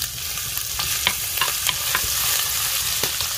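Garlic sizzles in hot lard in a pan with pork cracklings, giving a steady, close frying hiss with small crackles and occasional stirring scrapes and no talk.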